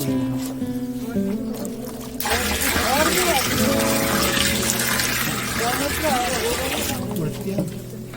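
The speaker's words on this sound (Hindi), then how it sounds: "गोबर के बाद हम डालेंगे इसमें ये गौमूत्र" Cow urine pours from a container into an organic fertilizer mix already holding cow dung, a loud, continuous splashing gush lasting several seconds before it tapers off, with quieter background sounds before and after.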